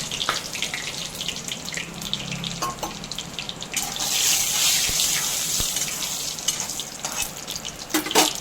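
Dried red chilies, bay leaves and cumin seeds sizzle in hot oil, a steady crackling fry with bursts of spitting and a louder surge midway, close and alone without talk.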